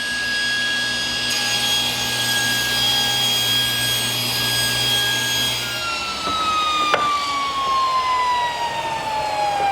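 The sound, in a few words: table saw trimming a cut in wood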